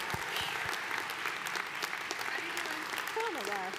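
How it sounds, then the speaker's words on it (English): Audience at a live 2023 university commencement applauding graduating seniors of a Sustainable Resources Management program, steady dense clapping throughout with a few sharp nearby claps and a voice speaking briefly near the end. "Let us applaud the accomplishments of the graduating seniors of the Sustainable Resources Management"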